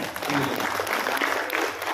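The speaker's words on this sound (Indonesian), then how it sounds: "Beri tepuk tangan buat Coach Edi ya" Seminar audience in Bandung applauds Coach Edy Sharma, a steady dense clapping wash filling the hall for about two seconds with voices mixed underneath.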